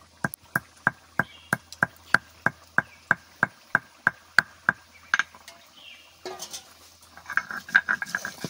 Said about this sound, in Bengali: এবারটা গরম মশলা বাটবো।